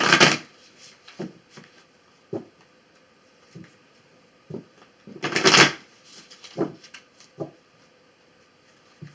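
Tarot cards shuffled by hand nearby in a run of crisp riffling bursts, one loud flurry midway, short slaps and pauses between, with no talk.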